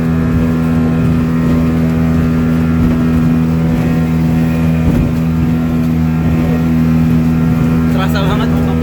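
A speedboat crossing big waves between Penajam and Balikpapan in the late afternoon makes a loud, constant engine drone with a steady low hum and churning water noise throughout.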